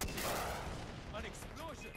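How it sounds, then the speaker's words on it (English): An explosion from a rocket launcher in the video game Far Cry 4, a dense rumbling blast with crackling debris that fills the whole two seconds, fairly faint overall, with a voice faintly audible underneath. "An explosion!"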